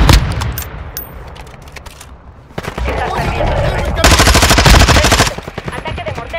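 Rapid automatic gunfire in Call of Duty: Warzone 2.0 rattles in dense bursts, near and loud, growing heavier toward the end, with faint talk from players underneath.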